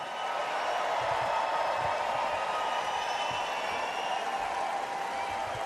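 A Republican National Convention crowd in Milwaukee cheers and applauds in one sustained, dense roar that stays steady and fairly distant throughout, with no single voice standing out.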